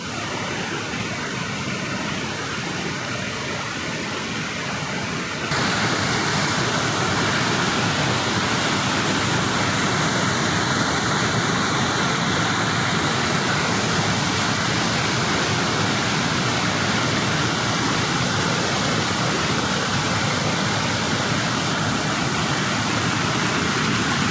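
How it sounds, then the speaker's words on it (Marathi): Water pours over from Mahalakshmi lake at Peth Vadgaon, running down through small waterfalls as a dense, steady roar of rushing water that grows louder and fuller after the first few seconds, with no voices. "छोटे छोटे धबधबे या ठिकाणी प्रवाहित होत आहेत आणि हा पहा हा महालक्ष्मी तलावाचा ओव्हरफ्लो"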